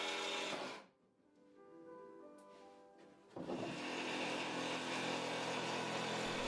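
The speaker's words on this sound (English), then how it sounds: "I use a 32 tooth metal cutting blade in my jigsaw for a smooth cut." Jigsaw fitted with a 32 tooth metal cutting blade cutting, a buzzing motor that drops out briefly, whines back at lower level, then resumes full loud cutting for the rest.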